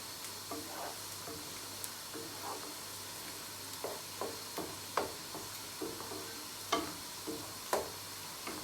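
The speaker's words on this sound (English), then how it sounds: "My onion is almost fried." Chopped onion frying in a pan for a Bangladeshi spicy dry lottia fish curry, a soft steady sizzle with occasional light clicks and taps of stirring, moderately quiet and continuous.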